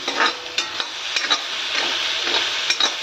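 Bottle gourd shoots frying in a pan give a continuous crackling sizzle, broken by a few sharp clinks and scrapes of stirring, close by and with no voices.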